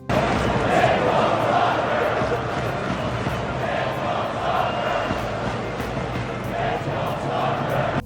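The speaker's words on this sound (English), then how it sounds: "a video of Americans in the crowd chanting" A crowd of American fans chanting in a stadium, a dense, sustained roar of many voices that stays loud and steady throughout with rhythmic swells.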